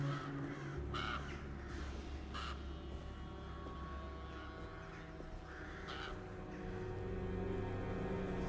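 Crows caw in a short series of harsh calls over a steady outdoor ambience in the video game Alone in the Dark (2024), with no talk.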